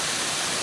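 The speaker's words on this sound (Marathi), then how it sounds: "धबधबा." A monsoon-season waterfall seen from above gives a continuous, dense roar of rushing water, steady and broadband with no break, heard over a brief moment without voices.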